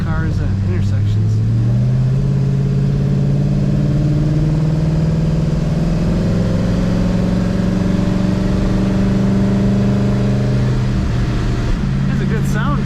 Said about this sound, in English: Has a good sound too, good exhaust sound.